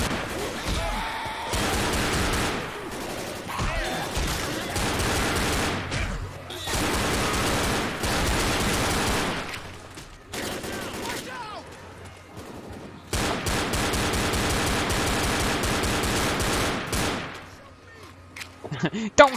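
Sustained gunfire crackles through a Left 4 Dead co-op round, dense rapid shots in long bursts separated by short lulls, loud and close, with players talking over the shooting.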